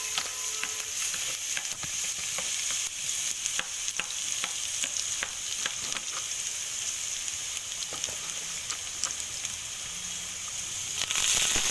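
Grated garlic and chopped chilies frying in a pan with a steady, close hiss and crackle, stirred now and then with light clicks, for a dish of stuffed bitter gourd.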